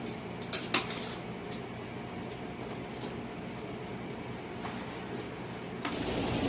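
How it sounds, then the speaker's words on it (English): Hamburger meat is stirred in a pot, with a couple of sharp spoon knocks against metal early on, a low continuous background hum, and a few more faint scrapes and clinks later. "We'll go ahead and get this hamburger stirred up."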